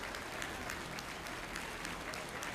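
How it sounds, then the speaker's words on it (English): A crowd claps at a 4-H beef heifer show, a steady, fairly quiet patter of applause filling the whole short stretch, with no voice heard. "Give that young man another round of applause."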